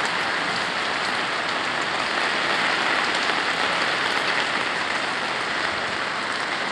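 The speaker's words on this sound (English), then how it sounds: "That's what it looks like when it rains in the Philippines." Rain falls in Talisay, Cebu, Philippines as an unbroken, even wash of drops drumming on surfaces, steady and fairly loud throughout with no talking.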